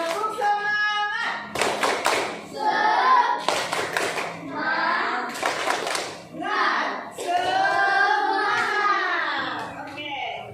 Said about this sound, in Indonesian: Ayo tepuk tangan dulu. Tepuk semangat.